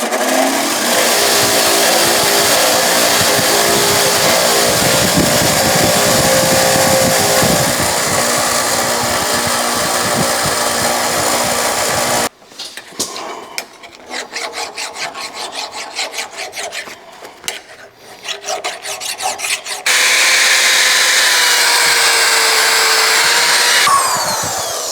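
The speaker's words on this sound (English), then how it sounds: "Now I'm going to take it over to my wire wheel here and clean it up a little bit." Wire wheel grinding rust off an old sledgehammer head, a loud continuous rasping whir that drops out midway into lighter intermittent scratching, then returns at full strength.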